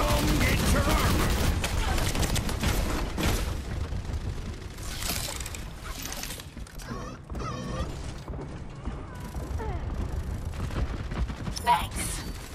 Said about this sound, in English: Let's hear those guns!